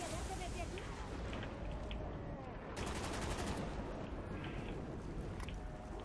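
Rapid gunfire from the Thunderbird weapon in a Call of Duty zombies match, a dense crackling burst of shots over game noise, with players talking throughout.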